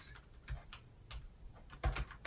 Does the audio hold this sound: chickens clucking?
no